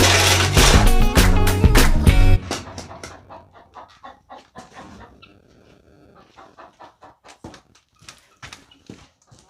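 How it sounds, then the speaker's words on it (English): Angry chickens in a coop cluck and squawk loudly at close range for a couple of seconds, then quieter scattered clucks and scratchy movement continue. "So I've got some incredibly angry chickens at me right now."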